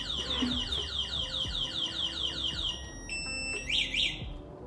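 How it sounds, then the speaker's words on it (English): Electronic alarm on a Solar P1 Pro electric scooter, a loud repeating warbling siren of rapid chirps that shifts into steady beeping tones and then a few bright squeals, close by with no talk. "it's also got an alarm on here, and I haven't really played with that much. There it goes."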